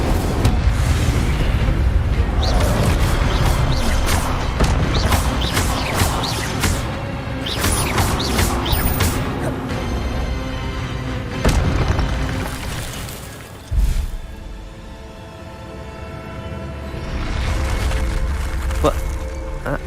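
A fire spell blast in Hogwarts Legacy, loud booming bursts and crackling flame whooshes erupting repeatedly, mixed with game effects and a voice talking over the action.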